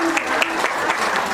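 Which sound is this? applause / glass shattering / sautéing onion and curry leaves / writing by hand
applause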